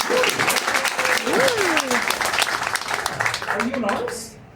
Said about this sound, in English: Everyone, give her a big round of applause.